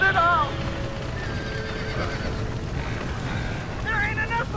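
Horses neighing and whinnying inside a burning barn in the game Red Dead Redemption, two sharp whinnies at the start and end, with hoof clatter and crackling background and voices shouting underneath.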